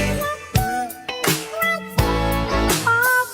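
Sampled excerpt of a song as used in another song, with a bright synth-pop arrangement: steady beat, bass, sustained synth chords and melodic lines playing continuously at full volume.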